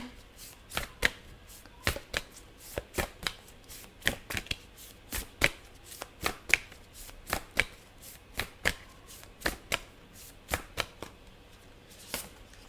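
A deck of tarot cards is shuffled over and over, close and clear, in quick irregular riffles and snaps with short pauses between them.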